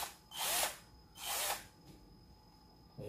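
A cordless hammer drill runs in two short bursts of about half a second each, whining close and fairly loud with a brief quiet gap between, then stops.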